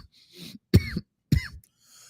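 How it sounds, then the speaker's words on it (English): Two sharp, close coughs right into a microphone, each a harsh burst with a throaty tail, separated by a short pause, following a faint breathy sound. "Sorry for all the coughing in the mic."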